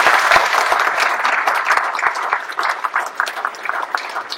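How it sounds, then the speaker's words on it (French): An audience at a mayor's New Year greetings event in Guillac applauds warmly, a dense run of clapping that thins out toward the end with a few scattered claps. "un grand merci et des applaudissements pour elles"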